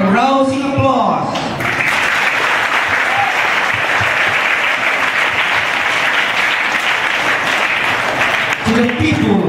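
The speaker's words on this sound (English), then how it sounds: "Let us give them a rousing applause." A large audience at a school graduation ceremony bursts into loud, sustained applause that fills most of the clip, with a voice speaking briefly at the start and end.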